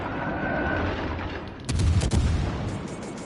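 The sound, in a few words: naval guns of the Hipper firing, from video game World of Warships Legends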